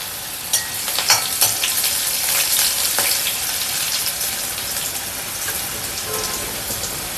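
Dried red chillies and onion hit hot oil with popped mustard seeds, giving a dense, continuous sizzle and crackle with scattered sharp pops, close and fairly loud, no talking over it.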